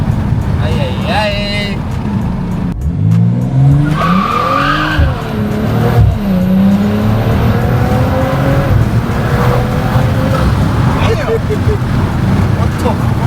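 Wheelspin from a car, either a widebody Supra or a custom-tuned M340i, with loud screeching tire squeals rising and falling over a revving engine, close up, while people talk and shout.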